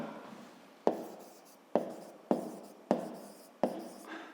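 Pen strokes on paper while writing out a math calculation, a run of five sharp onsets, each fading over about half a second, close and fairly quiet with no talk.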